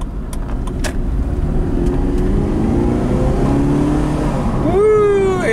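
Chrysler PT Cruiser with a transmission fault accelerating from a stop, its engine drone rising in pitch through the gears, heard from inside with a few clicks early and a clear upshift near the end.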